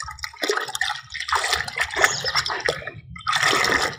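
Water is stirred and splashed by hand as fungicide powder is mixed into it to make a soak for repotting adenium roots, with a steady, close sloshing and swirling that keeps on through the whole stretch.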